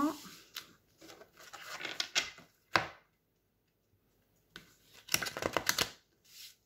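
Oracle cards shuffled by hand for a card reading, giving two bursts of crisp riffling and flicking with a sharp slap between them and a short quiet gap.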